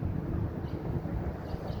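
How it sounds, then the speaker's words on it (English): Steady wind buffets the microphone with a continuous low rumble throughout, no voices, fairly loud and unbroken. "It's pretty windy out, but here we go."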